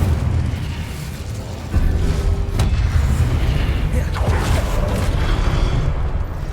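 Incendio fire spell cast in the video game Hogwarts Legacy, a loud boomy burst that kicks in partway through and roars on as a sustained rumbling blast, with other game sounds behind it.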